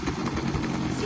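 OS65 methanol-fueled glow engine on a balsa-wood fixed-wing model airplane running at a steady, raspy buzz, close and continuous, with faint voices underneath.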